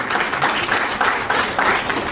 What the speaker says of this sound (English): Congratulations to all the lady presidents for, yes, we can clap it.